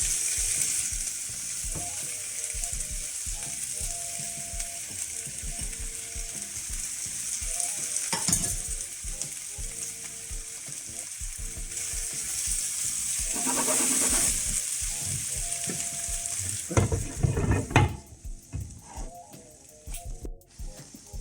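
Spring onions fry with roast pork and vegetables in a stir-fry pan, a steady close sizzle with clattering tossing and scraping throughout, louder knocks near the end before the heat fades.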